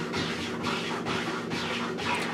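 A cat scratching at a door: repeated rough scratching strokes, roughly every half second, rasping steadily against the surface at moderate distance with no voices.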